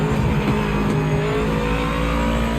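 A race car engine in the driving game Project Motor Racing, a loud, continuous close-up engine roar holding steady with a faint rise in revs, filling the whole moment without pause.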